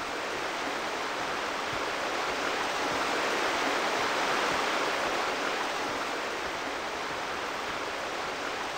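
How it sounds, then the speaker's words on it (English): Steady broadband rush of a waterfall in the farming game Farming Simulator 15, a constant even wash of falling water heard alone at moderate level throughout. "Oh, I can just walk in the waterfall."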